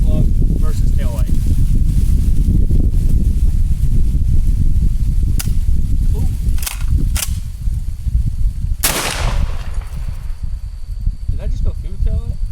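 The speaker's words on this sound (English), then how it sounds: "12 gauge rifle barrel slug versus taillight" A 12 gauge shotgun fires a rifled slug at a vehicle taillight outdoors: one sharp, loud report at close range, with a couple of fainter cracks nearby over steady background noise and talking.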